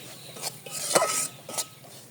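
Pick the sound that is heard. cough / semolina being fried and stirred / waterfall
semolina being fried and stirred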